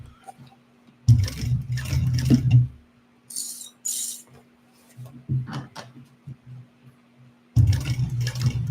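A sewing machine stitches a mountain saddle bag in three short motor runs with a steady hum, separated by quiet gaps and a few small clicks as the fabric is handled.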